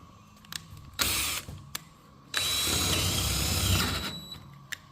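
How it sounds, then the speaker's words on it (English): Power drill boring a large hole through oak trailer boards, heard in two close, loud bursts: a short run, then a longer grinding stretch that slows toward the end, with clicks and clatter between. "Drilling the big hole"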